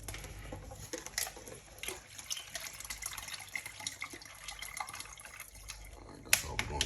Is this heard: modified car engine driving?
no